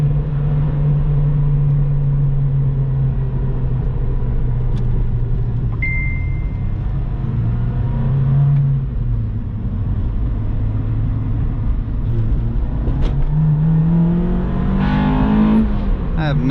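An Acura RSX Type S with a K20 engine revs up through the gears, its steady, close engine hum rising and falling in pitch, with a sharp climbing surge into VTEC near the end.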